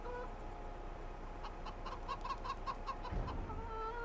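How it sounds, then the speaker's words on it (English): Hungry chickens cluck in Farming Simulator 22, a cluster of short repeated clucks and calls over a steady ambient background, moderately close with no speech. "Well, hungry, hungry chickens."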